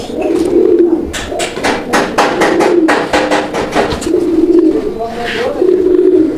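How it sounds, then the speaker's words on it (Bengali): A male pigeon coos repeatedly at close range in low, throaty, rolling calls. In the middle comes a burst of sharp rhythmic clapping, like beating wings. "এই নটটার ডাকটাও কিন্তু মাশাআল্লাহ আপনারা দেখতে পাচ্ছেন একদম পাগলা নর, ভরপুর ডাকের কবুতর"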